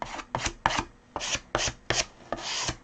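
A key card scrapes paint back and forth across a palette in about eight rough, rhythmic strokes, each a short gritty rasp separated by brief pauses, close and alone.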